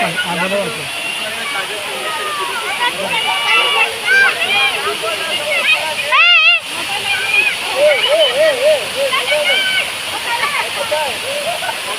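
A waterfall roars in a steady, loud rush of white noise while several people talk and call out over it nearby.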